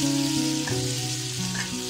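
Potatoes and tomatoes for vegetable biryani frying in a pan, giving a continuous, even sizzle with faint stirring and music underneath.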